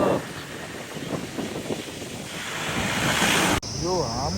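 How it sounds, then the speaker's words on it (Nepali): Hamkhola waterfall on the trek route toward Tilicho Lake: a steady, loud roar of rushing water with gusty wind buffeting the microphone, ending in an abrupt cut. "यो हामखोला झरना"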